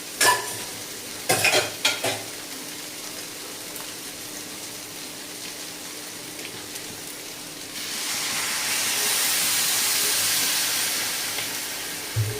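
Minced chicken fries in a pan under a spoon, with a few sharp scraping stirs at first, then a soft steady sizzle that swells into a loud, broad hiss near the end.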